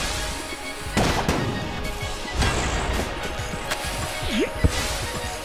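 Gunfire in the twin-stick shooter Enter the Gungeon as The Marine tests a new gun: sharp bursts and crashing impacts over a busy, dense game soundscape with background music, a few louder hits standing out.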